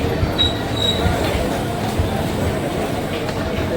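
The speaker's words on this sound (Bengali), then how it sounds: "এই ট্রেনে করে ট্রেন প্ল্যাটফর্মে ঢুকে গিয়েছে" A train stands at a station platform, with a steady low rumble and clanking of rail cars and a couple of faint high wheel squeals, heard close up with no talking.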